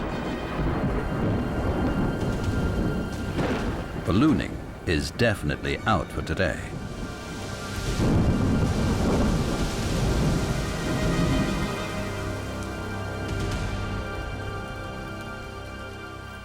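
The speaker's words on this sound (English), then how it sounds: "Meanwhile, a storm has gathered outside." Thunder rumbles repeatedly over steady rain during a storm in Mongolia's dune country, heavy low booms rolling near and far while someone talks over it throughout.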